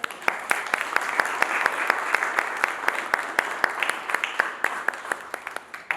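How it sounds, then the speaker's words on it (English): An audience claps steadily and loudly at a tribute event on the life of Chief Albert Luthuli, with distinct sharp hand claps standing out in a dense, even round of applause. "A round of applause."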